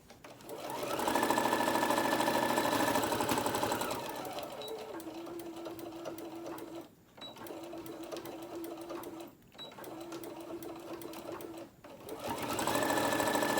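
A sewing machine stitches around a tote bag in long steady runs, loud and close, with short pauses between passes and a faint hum in the gaps.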